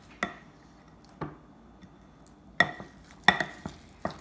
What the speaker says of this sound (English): And you just want to stir it until it's combined here.